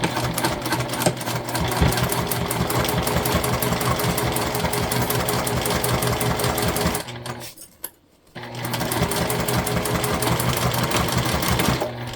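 A sewing machine stitches a crossbody bag in a fast, steady, close whir that runs continuously, pauses briefly, then resumes.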